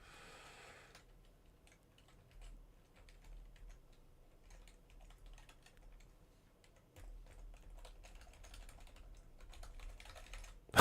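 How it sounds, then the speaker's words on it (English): Computer keyboard keys are pressed while playing a card shop game, scattered clicks and taps near the microphone, sparse at first and then denser bursts of typing toward the end. "I'm pressing all the buttons on my keyboard"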